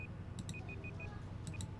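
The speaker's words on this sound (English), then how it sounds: "there's my timer beeping" A small electronic timer beeps in a quick, evenly spaced series of short high tones, faint against a low background hum.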